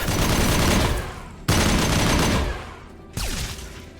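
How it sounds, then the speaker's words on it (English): An infinite-ammo assault rifle in Mass Effect 2 fires in loud, dense sustained bursts, breaking off twice and restarting abruptly, close and dominant. "I just have like an infinite ammo assault rifle"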